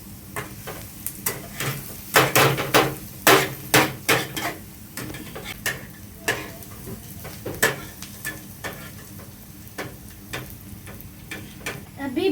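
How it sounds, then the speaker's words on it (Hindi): Onions cooking in a pan while making anda bhurji, with repeated sharp clacks and scrapes of a spoon stirring against the pan in an irregular rhythm over a low, steady sizzle, close and moderately loud. "प्याज को पकने दीजिए. इसको चलाते रहिए."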